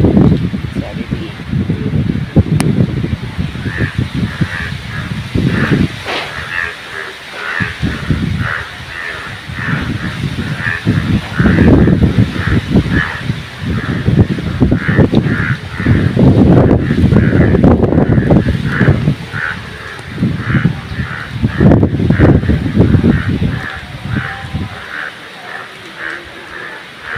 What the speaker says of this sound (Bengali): বৃষ্টি অবিরাম হয়ে চলেছে, ঝোড়ো হাওয়া